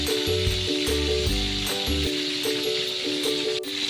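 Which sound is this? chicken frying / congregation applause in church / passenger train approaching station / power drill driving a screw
chicken frying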